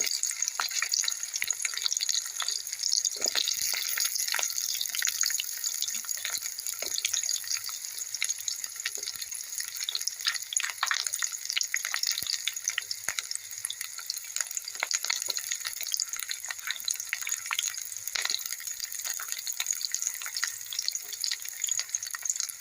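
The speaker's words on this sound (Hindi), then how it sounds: "जो हम अभी प्याज, टमाटर, काजू और लहसुन रखे थे वो सारे चीज़ को इसी तेल में डाल के हल्की सी फ्राई करेंगे" Onion, tomato, cashew and garlic fry lightly in leftover oil in a pan for a restaurant-style matar paneer, giving a steady crackling sizzle with scattered pops and spatters and no talking.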